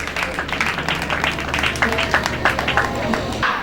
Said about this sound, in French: est-ce qu'on peut l'applaudir encore une fois de plus pour son allocution?